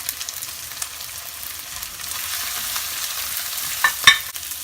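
Potato pieces frying with spices in a pan for an aloo palak dish, producing a continuous close sizzle with soft stirring scrapes and a couple of brighter crackles toward the end.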